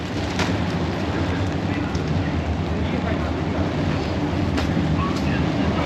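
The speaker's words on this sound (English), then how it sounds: "Can you hear the rumbling of that train?" A train rumbles over elevated tracks above the Ameyoko street market in Ueno, a loud continuous low roar blending with street noise throughout.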